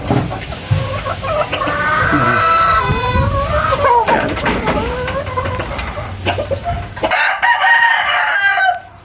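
Gamefowl rooster, a Gilmore hatch cross, crowing loudly at close range in a backyard breeding yard, one long drawn-out crow followed by a second shorter crow, with clucking and other fowl sounds around it.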